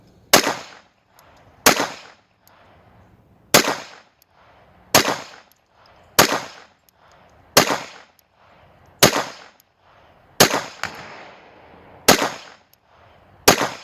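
Ten sharp, loud gunshots from a Walther PPK/S .22LR pistol, fired one at a time at an uneven pace of roughly one every one to two seconds, each crack trailing a short echo with no talk between them.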